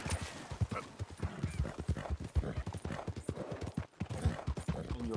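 Hooves pound rhythmically as a horse gallops in Red Dead Redemption 2, with dense, rapid clip-clop beats, a brief neigh, and faint talk underneath.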